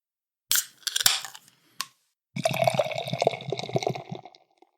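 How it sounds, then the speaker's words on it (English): Beer from Triptych, a holiday brew called It Came Upon a Midnight Meme, pours into a glass after a couple of sharp opening clicks, then a steady foaming glug and fizz runs for about two seconds, close and clear with no talk. "this has a really good pour, nice foam, good color to this"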